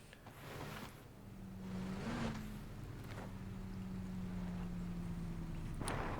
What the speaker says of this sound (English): I hear a vehicle move in.